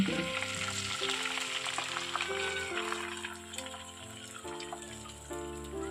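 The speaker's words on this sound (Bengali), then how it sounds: "কালো জিরেটা খুব ভালো করে ভাজা হয়ে গেলে আমি এখন দিয়ে দেব ডিম" Eggs go into hot oil with black cumin (nigella seeds), giving a crisp, continuous frying sizzle with light stirring, heard beneath steady background music.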